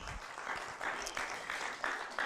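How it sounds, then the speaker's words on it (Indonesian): Church congregation applauding, a faint, steady patter of many hands clapping together with slight surges, heard from a distance. "Beri tepuk tangan untuk Tuhan kita."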